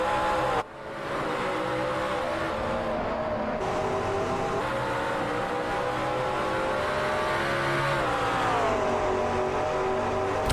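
GT race car engines drone in a sim racing game at Road America as a car drafts down toward turn 1, a sustained buzzing engine note that climbs in pitch late on, steady and up close without talk.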